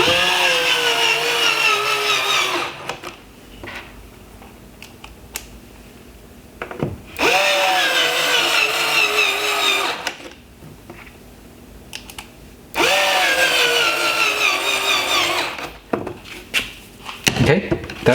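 Three long whirring runs from a power tool driving T20 Torx screws into a headlight tab on a 2014-2017 Mercedes S550/S600 LED headlight. Each run rises in pitch under load and is loud and close, with clicks and handling noise in the gaps.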